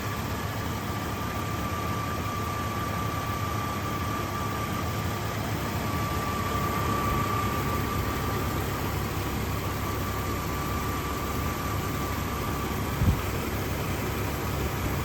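A 2001 Jeep Cherokee XJ Sport 4x4 with the 4.0 engine idles steadily under the open hood, a constant low rumble with a faint whine layered on top and one brief knock near the end. No one speaks.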